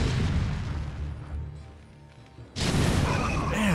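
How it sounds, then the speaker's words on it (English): Reaver scarab explosions in the video game StarCraft: Brood War, a deep booming blast that fades, then a second loud burst with a rumbling tail. "I feel like this game has really long-distance scarab explosions."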